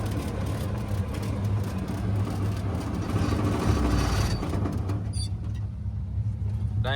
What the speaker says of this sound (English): Dang, them tires are loud.